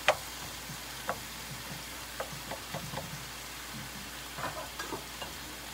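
Asparagus frying in a pan over higher heat makes a soft, steady sizzle, broken by occasional light ticks and clicks from the pan or a utensil.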